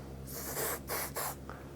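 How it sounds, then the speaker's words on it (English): Silicone spray hisses onto the rubber gasket of an Ultraframe gutter in three quick, close bursts, with a brief pause between each. "Silicone spray the gasket"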